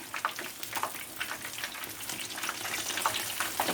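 Chinese-style chicken fingers crackle and sizzle steadily in hot frying oil after being turned with tongs, a continuous close, bright hiss with scattered pops throughout.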